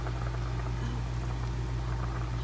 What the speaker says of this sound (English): No, it's not simmering, it's boiling.